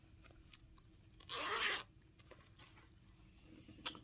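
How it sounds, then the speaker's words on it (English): A zipper on a cross-stitch-patterned fabric pouch is pulled in one quick, close, rasping stroke lasting about half a second. Faint handling clicks come before and after it. "And then there's this zipper here."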